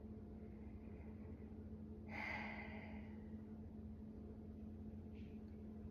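A single deep, soft breath drawn during a seated stretch in an arm workout, brief and close, standing alone against a faint steady hum.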